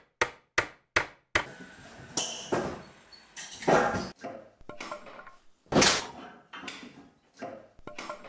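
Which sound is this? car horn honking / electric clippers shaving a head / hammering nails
hammering nails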